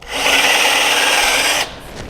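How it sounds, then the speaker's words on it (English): A power drill with a 1/8 inch bit bores into concrete, giving a loud, close, high whining grind that runs for about a second and a half and then cuts off abruptly. "I have an 1/8 inch drill bit in my drill, and I'm drilling small holes right at the top of the concrete"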